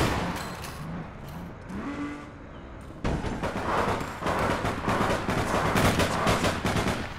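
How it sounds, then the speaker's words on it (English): Gunfire in the online game APB Reloaded, rapid continuous bursts of shots crackling under a steady game soundscape, loud and dense through most of the clip, with a louder, busier stretch in the second half. "Who's shooting through the roof?"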